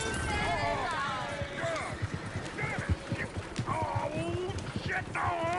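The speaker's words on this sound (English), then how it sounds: "Shit, the horses! Damn horses!" Several horses neigh and whinny in repeated rising calls over steady clip-clopping hooves, with a busy crowd of voices talking throughout.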